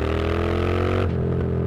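A Triumph Street Scrambler motorcycle engine winds down in second gear, its loud rumble slowly dropping in pitch as it decelerates close by.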